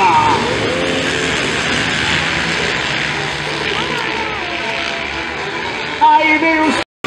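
Racing motocross motorcycle engines roar loudly and steadily during a race, whining up and down in pitch as they pass close by, then cut off abruptly at the end.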